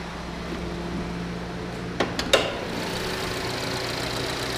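A 2013 Chevy Captiva's 2.4-liter engine idles with a steady low hum, broken around the middle by a few short sharp clicks or taps, then settling back to an even drone.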